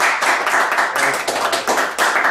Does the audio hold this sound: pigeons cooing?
no